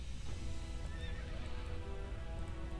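Horses neigh and whinny amid the steady, dense battle noise of the strategy video game Cossacks 2, with cavalry sounds mixed into a continuous background roar.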